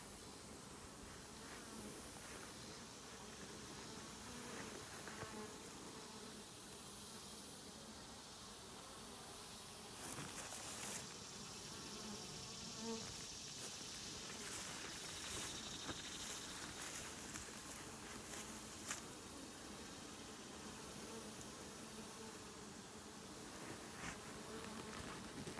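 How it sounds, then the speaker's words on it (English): Aggressive Africanized honeybees buzz in a continuous, faint, dense drone, with many wingbeats blending into a steady hum. "certainly the most aggressive I've ever seen bees, honeybees."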